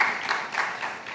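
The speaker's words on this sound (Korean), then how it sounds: "하나님께 영광 박수 올리겠습니다." Church congregation applauding during a youth worship service: a dense, steady wash of clapping from many hands, close and sustained through the whole moment.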